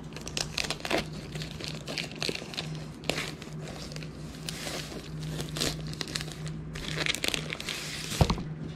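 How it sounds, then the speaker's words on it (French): Plastic packaging on a new Homfun product being cut open with a knife during an unboxing, steady close crinkling and crackling with small tearing snaps throughout, no talking. "Juste pour dire que je vais couper le plastique."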